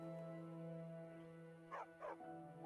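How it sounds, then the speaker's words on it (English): Dog in Skyrim Anniversary Edition letting out two or three short barks near the end, over a sustained game music drone. "Is that a random dog?"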